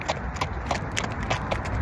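Horse hooves clip-clop in a steady, quick rhythm during riding, a series of close, moderately loud impacts over a constant background hiss.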